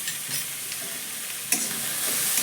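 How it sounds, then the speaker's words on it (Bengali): Grated raw potato mixed with salt and turmeric being stirred in a bowl, a steady wet scraping and squelching texture throughout with a slightly firmer scrape midway. "এবার সব কিছু ভালো করে মিশিয়ে নেব।"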